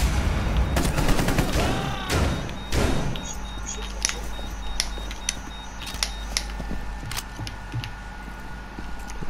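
A burst of gunfire opens this Rainbow Six Siege match, followed by scattered single shots and clicks over a low steady background hum.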